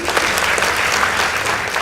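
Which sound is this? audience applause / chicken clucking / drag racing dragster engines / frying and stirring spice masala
audience applause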